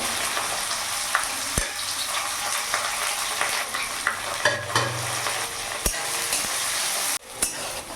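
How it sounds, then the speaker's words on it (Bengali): Sliced onions shallow-fry in oil in a pan, giving a close, steady sizzle broken by occasional stirring scrapes and sharp knocks of a spoon against the metal. "পেঁয়াজটা আমি শ্যালো ফ্রাই করে নেব যাতে পেঁয়াজের কাঁচা ভাবটা চলে যায়"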